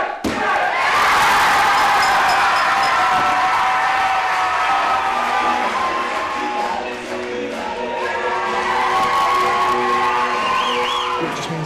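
A wrestling crowd in Runcorn cheers and whoops as Angel D'Souza clinches the title. The roar is loud and sustained, with thuds and slams in the ring, scattered shrill whoops and applause, and it eases slightly toward the end.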